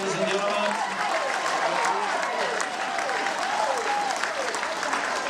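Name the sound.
applause for a runner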